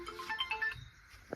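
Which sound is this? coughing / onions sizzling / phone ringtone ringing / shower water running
phone ringtone ringing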